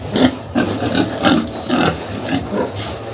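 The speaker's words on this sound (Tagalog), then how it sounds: "pakita man natin ang mga baboy ko mga garulog ito mga baboy ko" Pigs about three months old, a group of nine in a crowded pen, grunting and snorting in repeated rough bursts close by over steady background noise, with no talking.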